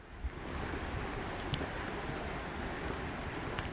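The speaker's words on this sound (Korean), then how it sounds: "입구에 있는 돌다리를 건너면 우렁찬 계곡 물소리가 반겨주는데요" Steady rushing water of a valley stream at Mureung Valley, Dutasan, roars continuously close by, a dense broadband wash without pause.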